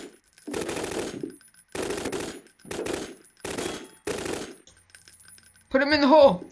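Gunfire from a weapon in Garry's Mod, loud and close: five separate bursts of rapid automatic shots with short silent gaps between them, ending in a brief warbling tonal sound.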